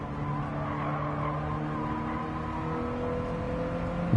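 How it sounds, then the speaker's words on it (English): A race car in Gran Turismo 7 squeals its tires through a corner while the engine drones steadily beneath, a continuous, moderately loud game-audio sound ending in a short bump. "Gotta pay attention to the sounds that I hear the tires making."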